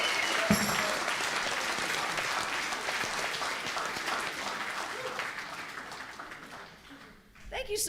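Audience applauding: dense, steady clapping from a crowd that holds for several seconds, then fades and dies away near the end.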